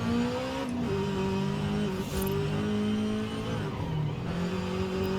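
Subaru BRZ engine at full throttle in Forza Horizon 5, fitted with semi-slick tires, a loud close continuous engine note climbing steadily through the revs with brief dips at gear shifts.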